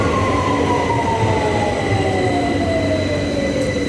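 A London Underground train pulls in with a loud steady rumble and a long high-pitched whine sliding downward as it slows.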